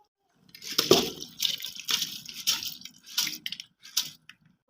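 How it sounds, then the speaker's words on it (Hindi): Soaked rice tipped into a pot of simmering meat broth (yakhni) for beef pulao, giving a series of close, wet splashing and squishing bursts that come in uneven pulses. "और अब हम इसमें चावल ऐड कर देंगे जो कि हमने भिगो के आधा घंटा पहले रखे थे।"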